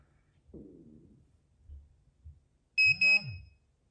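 Two short, loud, high-pitched beeps from a Pudibei NR-750 Geiger counter alarm near the end, following a quieter stretch of low rumbling and handling noise.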